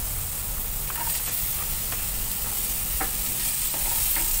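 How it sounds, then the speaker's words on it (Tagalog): Onions and garlic sizzle steadily in a hot pan while a utensil stirs them in occasional scraping strokes, close and continuous with no talking, as a base for squash cooked in coconut milk. "i-mix-mix lang natin"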